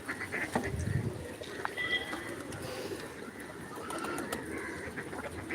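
Ducks on a Kerala homestead quack faintly in a few short, scattered calls at a distance over a quiet outdoor background of other birds.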